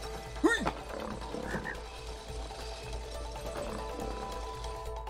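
A cartoonish frog croaks a couple of times in the video game It Takes Two, fairly close and clear over a steady soft game background hum, with no talking.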